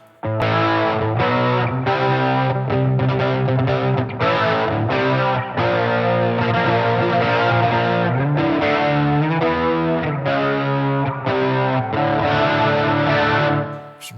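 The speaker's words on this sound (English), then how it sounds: "looks like it's got a bit of a chorusy thing going off in there" Electric guitar played through a NUX Trident amp with chorus and delay, a run of distorted, shimmering chords and notes struck in quick succession and sustained, loud and close throughout with no voices.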